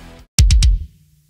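Three rapid, heavily distorted kick drum hits, crushed with the Camel Crusher plugin in FL Studio for a metal mix, punching out loud and close with a short ringing tail before fading to near silence.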